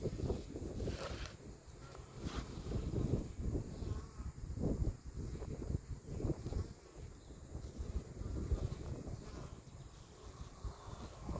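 Honeybees hum and buzz softly around a hive on a cloudy, windy day, a faint, steady drone mixed with gusty wind noise rumbling against the microphone.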